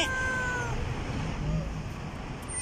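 A kitten meows on a roadside while waiting, a faint, thin call with falling pitch near the start over soft background noise and distant sounds.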